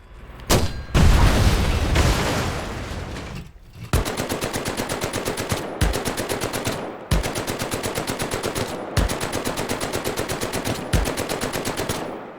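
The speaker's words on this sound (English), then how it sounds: "You destroy some reinforcements with RPGs and mounted turrets." Mounted turret and RPG fire in the video game Medal of Honor VR, with a heavy blast at the start followed by long bursts of rapid automatic fire broken by sharp booms, loud and continuous.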